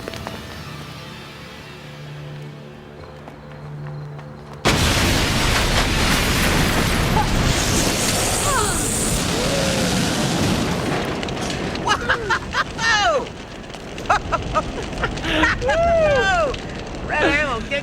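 A sudden, loud explosion from red ammo blowing up something big bursts in after a quiet stretch and becomes a sustained roar and rumble, with crackling debris and voices heard over the tail end.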